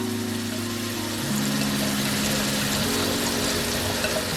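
Marinated chicken fries in about five tablespoons of hot oil or butter in a pan, giving a loud, steady sizzle close by under a low hum, without talking.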